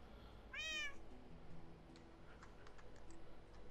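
A single short cat meow from Minecraft rises clearly over a quiet backdrop of soft ticking and light clicking that continues afterward.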